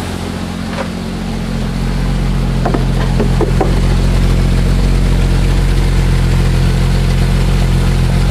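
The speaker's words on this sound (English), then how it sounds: "got a hole in the front of my muffler," A Jeep engine idles steadily with a holed front exhaust muffler leaking, giving a continuous low rumble close by that builds over the first two seconds, with a few faint clicks on top.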